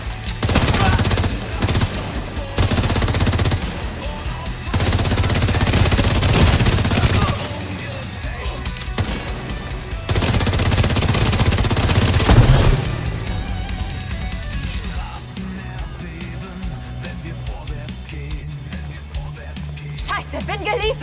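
Sustained automatic gunfire in The Division 2 roars in long, loud bursts with short pauses between them, easing into quieter scattered shots toward the end as a voice talks over the fighting.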